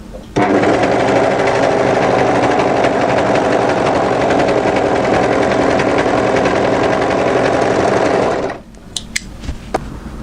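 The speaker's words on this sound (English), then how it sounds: "So when you overlock, make sure all those raw edges are together." An overlocker serges the raw edges of fabric held together. Its motor whirs loud and continuous for about eight seconds, then stops, followed by a few small clicks of handling.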